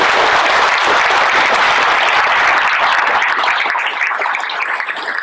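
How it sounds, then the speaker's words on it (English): Sustained, loud applause from a large crowd, dense clapping that fades slightly near the end. "How about a round of applause for that?"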